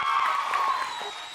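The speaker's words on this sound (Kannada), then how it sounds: "ಈ ಯುಗಾದಿಲಿ ಶ್ರುತಿ ಹಾಕಿದ ಹೆಜ್ಜೆಗೆ ಒಂದು ಜೋರಾಗಿ ಚಪ್ಪಾಳೆ ಬರ್ಲಿ" Studio audience at a Kannada TV comedy show clapping and cheering, a dense burst of applause with whoops, brief and fairly loud.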